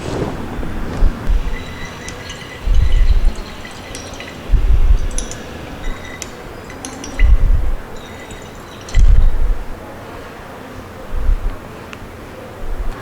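A 0.1 normal sodium thiosulphate solution drips from a burette during an iodometric titration of copper sulphate. Drops fall at a slow, regular pace of about one every two seconds, each a soft, close thud over a faint background hum.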